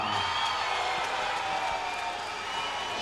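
An arena crowd at a King of the Cage mixed martial arts event roars steadily as a fighter is introduced, with a broad, continuous wash of cheering and clapping.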